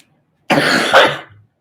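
A single loud, close cough, harsh and breathy, lasting about a second before trailing off into silence.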